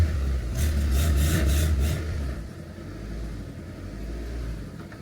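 A Honda Civic that sat unused for 13 years idles just after startup, a steady low engine hum that softens slightly partway through and then holds an even, continuous drone.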